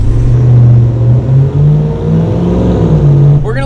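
Hennessey Venom 775 F-150 and RAM TRX pickup trucks accelerating hard in a side-by-side race: loud, close engine roar with a deep droning note climbing and dipping through shifts, ending in a rising whine.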